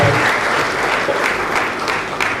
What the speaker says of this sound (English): Let us clap as it comes.